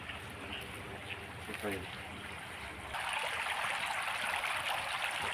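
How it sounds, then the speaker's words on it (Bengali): Groundwater pumped up from below ground pours into a storage tank, a continuous faint rushing of flowing water that grows a little louder partway through. "এই হচ্ছে আমাদের জল জল মাটির নিচ থেকে উঠছে এবং জল ট্যাঙ্কিতে আমরা ফালাচ্ছি"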